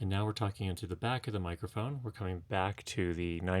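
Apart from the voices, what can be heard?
No everyday noise stands out behind the speech.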